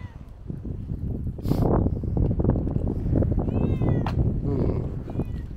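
Several cats meow repeatedly on a quiet village street in Spain along a pilgrimage route, their calls fairly close and rising over steady wind and background noise, with someone speaking in between.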